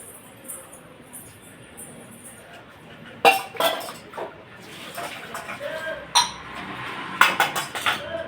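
A tea pan and other dishes are washed, giving scattered close metallic clinks and clatters with water-like rustling between them and a few sharper knocks toward the end.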